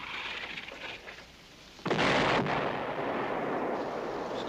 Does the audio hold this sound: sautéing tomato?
no